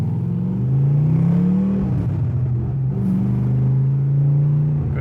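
A widebody Porsche 911 with a swapped-in LS engine rumbles loudly from inside the cabin, its low exhaust note rising and falling with the revs through the gears, steady and continuous.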